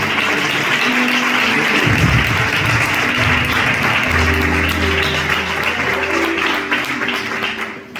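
Church congregation applauding during a Spanish-language evening worship service, a steady wash of clapping with low tonal hum and murmuring beneath it.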